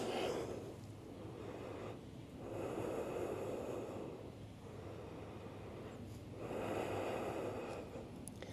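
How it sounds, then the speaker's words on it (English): Deep breathing during a yoga child's pose, slow alternating inhales and exhales in long airy swells about two seconds each, close and quiet with no talking. "Couple deep breaths, just relax your hips."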